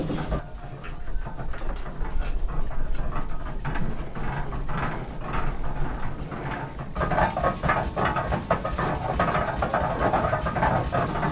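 A 108-year-old steam donkey from around the turn of the century runs steadily, giving off continuous mechanical clanking and ratcheting, loud and close, with a busier burst of rattling near the end and no talk.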